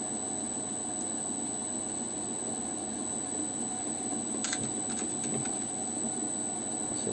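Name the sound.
rubbing rough Coober Pedy opal pieces on a grinding wheel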